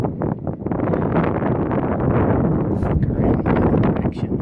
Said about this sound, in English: The wind is blowing pretty bad up here